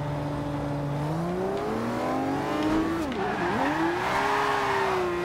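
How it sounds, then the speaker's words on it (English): Car in the Forza Horizon 2 racing game braking hard so the rear slides out, with a steady loud engine drone that sweeps down and back up as tires squeal through the skid, no talking. "Now I'm gonna hit the brake, see how the back end goes"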